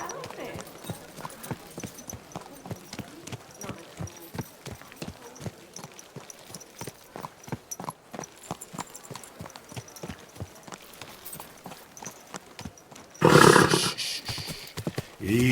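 Horse hooves clip-clop at a steady walking rhythm through most of the stretch in the medieval video game Kingdom Come: Deliverance II, close and clear under light background ambience, before a louder burst of noise near the end.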